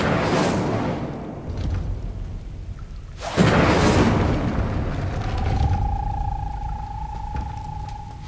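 A fire spell cast in the video game Hogwarts Legacy bursts out as deep booming whooshes, two big swells, followed by a lingering rumble and a steady tonal hum.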